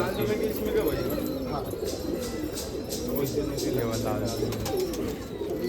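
A female Gavthi Allahabadi cross pigeon coos in low, soft repeated rolls among other birds, with someone talking over it throughout.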